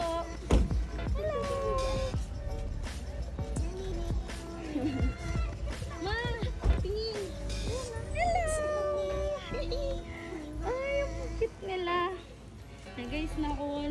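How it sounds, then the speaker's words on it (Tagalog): Pet cats meowing several times at a Filipino household, rising and falling calls close by, interleaved with ongoing talk and background activity. "Guys, nakuha na namin yung pusa."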